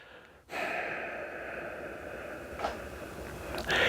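A deep, steady breath drawn in and slowly let out during a held muscle-contraction stretch for a golf swing, close and breathy, continuing as one long airy rush with a slight catch near the end.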